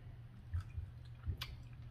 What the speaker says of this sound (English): Let me try the shrimp, crunchy shrimp.